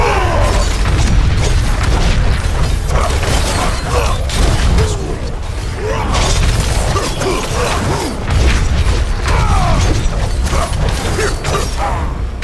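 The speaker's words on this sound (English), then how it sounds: "Listen to the sound of those explosions." Explosions in a Diablo-style action game during Barbarian gameplay: a dense, loud, continuous stream of booms, crunches and clanking mechanical effects layered without pause, with no voice over it.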